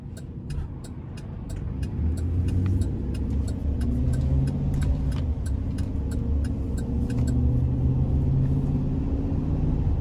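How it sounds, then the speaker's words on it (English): A GMC conversion van accelerates with a steady mid-pitched engine rumble and road noise from inside the cabin. The engine swells after a couple of seconds and stays loud and continuous throughout, broken by faint regular ticking. "It accelerates pretty well."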